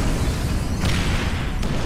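A planted charge detonating in GTA, a loud sustained low rumble of explosion with a couple of sharper bursts on top, close and heavy throughout.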